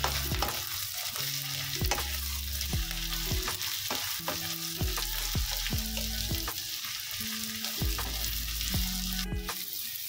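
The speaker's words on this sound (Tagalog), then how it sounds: "Now, it's time para ilagay naman natin ang ating onions." Onions go into a pan already frying pork and golden garlic, giving a steady sizzle with repeated stirring scrapes of a utensil at a regular rhythm, close and moderately quiet.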